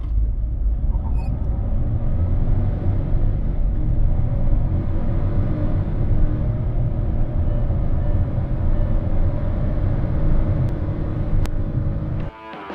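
A Hyundai Venue HX10 turbo with DCT gearbox driving in traffic gives a steady low cabin rumble of engine and road noise, continuous and fairly loud before dropping off abruptly near the end.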